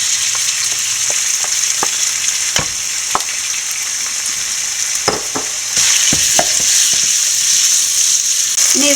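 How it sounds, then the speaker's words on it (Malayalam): Chicken pieces rubbed with pepper and salt sizzle in hot oil for chicken fried rice, a dense steady frying hiss broken by sharp utensil clicks and stirring knocks, with no talk. "അതിൻ്റെ അകത്തോട്ട് നമുക്ക് കുരുമുളകും ഉപ്പും പുരട്ടി വെച്ചിരിക്കുന്ന ചിക്കൻ പീസ് ഇട്ട് കൊടുക്കാം."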